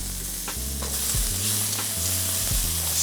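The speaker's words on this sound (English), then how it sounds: "Stir fry that for a minute or so." Calamari being stir fried in a wok with peanuts, carrots and green onions for crispy kung pao calamari, a steady loud sizzle broken by repeated scraping and tossing strokes of a spatula, no voices.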